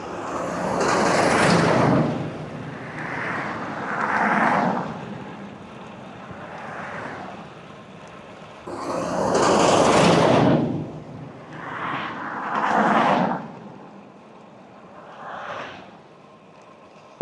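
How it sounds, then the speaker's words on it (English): Cars pass along a road one after another, each swelling into a loud whoosh as it goes by, then fading. Two bigger passes stand out, with quieter vehicles between them. "Here comes a few cars."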